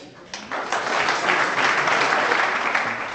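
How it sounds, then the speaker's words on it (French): Audience applause at a chef's induction ceremony, a dense steady patter of many hands rising after a quiet start and holding loud for several seconds. "On peut l'applaudir."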